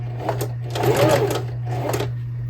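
A sewing machine stitches over crumpled, twisted fabric to form a flower on a dress, running in a steady mechanical whir with brief pauses and faint bursts of needle chatter throughout.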